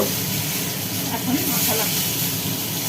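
Salted, turmeric-coated eggplant pieces frying in hot oil for a Bengali hilsa dish give a steady, loud, close hiss and sizzle that lasts the whole time.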